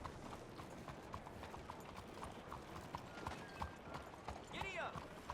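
Galloping horse hooves in Red Dead Redemption 2, a steady rapid clip-clop rhythm running throughout at moderate level, with a brief whinny-like tonal cry near the end over faint background sound.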